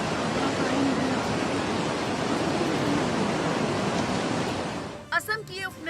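Surging floodwaters in Assam roar as a dense, steady rush of water for about five seconds, then cut off abruptly before a short, louder burst of speech.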